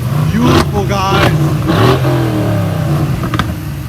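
A Mercedes-AMG GLE63 Coupe, 2015 or 2021 model, revs hard close by, several rising and falling engine sweeps with crackling bursts, loud throughout.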